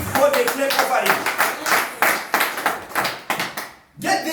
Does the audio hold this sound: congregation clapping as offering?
yes